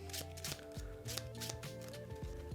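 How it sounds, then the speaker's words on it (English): A deck of playing cards being run during a shuffle, with quick repeated riffling snaps and soft slides close by, a brisk uneven rhythm with no talking. "that's the first thing we're going to look at is running cards."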